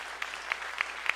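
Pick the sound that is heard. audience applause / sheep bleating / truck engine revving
audience applause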